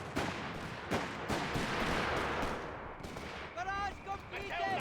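Mortar and other gunfire in the strategy game Company of Heroes 3 crack and boom in a dense, continuous battle mix, several sharp blasts standing out over the din, with a commentator talking throughout.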